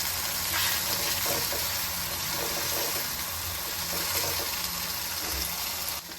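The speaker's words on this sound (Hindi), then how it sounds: "अरबी हमारी मसालों के साथ अच्छी तरीके से भुन गई।" Taro root (arbi) frying with spices in a pan gives a steady, continuous sizzle throughout, with faint stirring scrapes and no talking.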